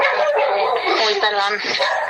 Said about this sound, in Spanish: justo mis perros